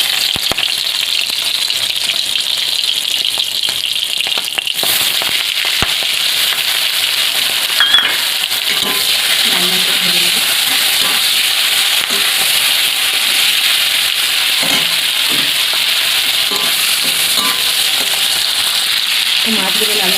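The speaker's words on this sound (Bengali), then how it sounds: "তো মাছগুলো লাল লাল করে ভাজা হয়ে গেছে" Marinated fish, rubbed with turmeric and salt, sizzles steadily in hot mustard oil for a long stretch, a dense bright crackle with occasional louder pops and faint scraping of a spatula in the pan.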